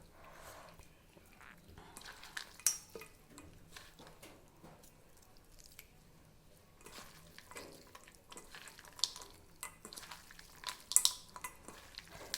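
Gundruk pickle being mixed with dalle chili by hand, giving soft wet stirring, squelching and light patter, with sharper clicks of a spoon or bowl now and then, close and fairly quiet with no talk.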